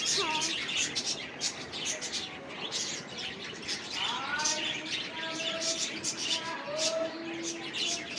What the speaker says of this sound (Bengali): দেখছে ডাকাটা কি শুরু হয়ে গেছে পাখিদের